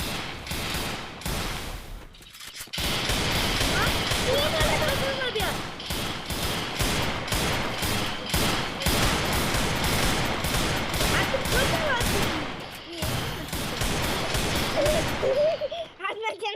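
Rapid bursts of video game gunfire crackle loudly and almost without a break, with brief pauses. Excited young voices call out over the shooting during a match between an uncle and his nephew.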